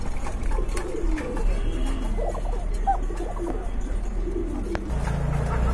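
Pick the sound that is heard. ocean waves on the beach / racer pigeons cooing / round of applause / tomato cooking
racer pigeons cooing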